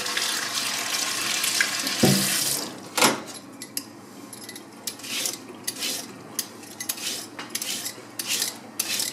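Vegetables such as parsnip and white carrot are rinsed under a running kitchen tap, giving a steady splashing stream with a louder gush near the start and scattered clinks of utensils and dishes; no voices.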